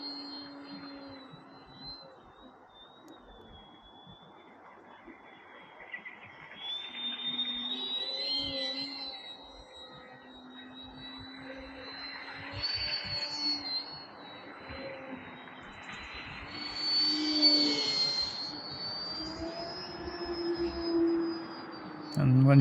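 XFLY Glastar V2 RC bush plane flying on a 4S battery, a thin whining motor tone rising and falling as it passes, heard at a distance beneath someone talking.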